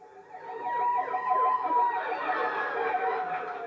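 An ambulance siren wails loudly and continuously, its rising and falling pitch sweeping in a fast repeating cycle.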